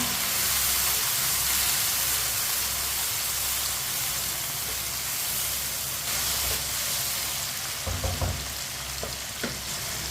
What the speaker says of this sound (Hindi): टमाटर को भी 2 मिनट के लिए पका लेंगे ताकि टमाटर हमारे अच्छी तरह गल जाएं